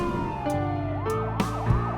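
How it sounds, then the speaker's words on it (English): Police sirens sounding outside a house, with several wailing tones rising and falling and overlapping loudly, and a few sharp thuds in between. "A few minutes later, sirens echoed outside."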